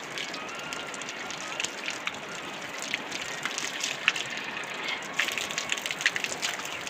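A forest stream with water flowing steadily nearby, a constant rushing wash with occasional sharper splashes as hands and face are rinsed in it.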